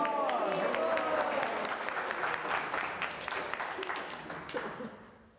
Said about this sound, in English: Right, applause.